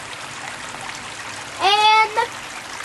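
Water trickles steadily into a garden pond fitted with a nylon net over the fish, a soft continuous flow with a brief voice breaking in partway through.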